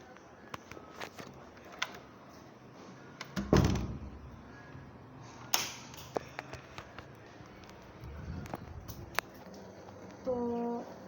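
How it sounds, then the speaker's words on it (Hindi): A door is shut in a home, landing as a dull, solid thunk amid scattered household taps and knocks, with occasional voices in the background. "दरवाजा बंद कर देते।"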